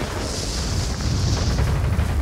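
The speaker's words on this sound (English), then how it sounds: "I see some explosions, but they're not all dead." Dense, rumbling booms and crackling bursts overlap continuously, a muffled barrage of explosions in World of Warplanes with no clear gaps.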